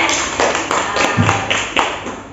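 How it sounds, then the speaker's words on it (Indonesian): A classroom of students gives a few sparse, uneven claps for group 3 after their presentation, near and moderately loud, with a voice faintly mixed in. "kita kasih tepuk tangan untuk kelompok 3 atas penampilan"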